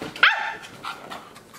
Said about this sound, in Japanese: うん、感情込めて吠えるね。